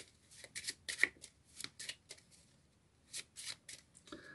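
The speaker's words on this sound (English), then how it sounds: "I'm going to give these cards a shuffle." Playing cards are shuffled close by, a quiet series of crisp riffling and flicking bursts with short pauses between them.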